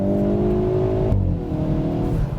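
The engine of a 2022 Hyundai Veloster N hatchback revs after a one- or two-gear downshift. The sustained, close engine note drops in pitch midway, then holds at a lower, steady drone.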